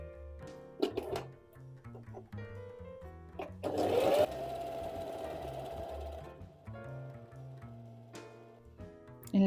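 A sewing machine runs on fabric in irregular bursts, with rapid mechanical clatter and whirring between pauses and a sustained stretch of stitching in the middle, close and fairly loud.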